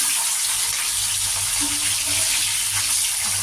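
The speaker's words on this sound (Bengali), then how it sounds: "এবার আমি দুটো দুটো করে মাছ ভেজে নেব" Pomfret fish frying two at a time in hot oil produce a loud, continuous sizzling hiss with faint low clatter underneath, steady throughout and close by, with no one speaking.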